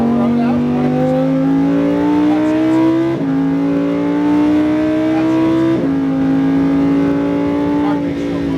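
Lamborghini race car at Las Vegas Speedway, a loud in-car engine drone climbing steadily in pitch through the gears, with two sharp drops at upshifts, while an instructor talks over the engine.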